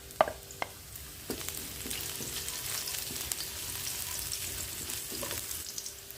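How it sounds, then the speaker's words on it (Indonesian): Garlic and spring onion stems fry in hot oil for a bihun pastry filling, giving a steady close sizzle with a few sharp spatula clicks near the start and the end, and no talk. "Untuk panaskan minyak goreng, lalu kita masukkan terlebih dahulu bawang putih dan juga batang dari daun bawang."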